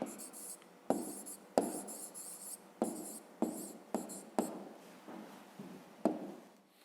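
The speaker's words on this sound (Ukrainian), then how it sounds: "Ну, а тепер пишемо відповідь." Pen strokes scratch across paper as an answer is written out by hand for a fifth-grade maths exercise, a close, quiet run of short rhythmic scribbles with brief pauses between words.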